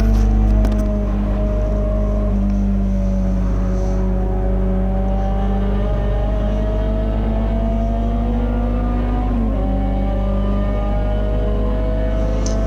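Peugeot 206 GTi 180 race car racing at Silverstone, its engine droning loud and steady from inside the car, pitch rising through the gears with a brief dip at a shift, over constant rumble and wind.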